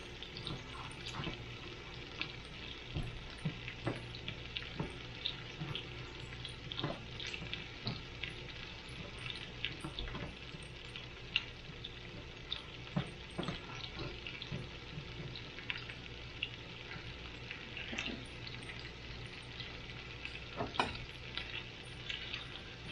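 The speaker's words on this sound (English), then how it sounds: "just gonna move these around, flip them, and just saute them all till they're cooked down" Parmesan crusted chicken sautes in a pan with a soft, continuous sizzle and frying crackle, broken by occasional clinks and scrapes as the pieces are moved and flipped. No one speaks.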